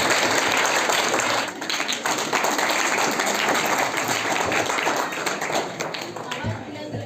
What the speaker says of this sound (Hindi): आपकी तालियों पर जोर होना चाहिए